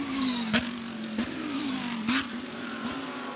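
GT race cars lap the Zhejiang circuit in a Blancpain GT Series Asia race, one engine droning steadily at a distance with a few sharp bursts as cars pass.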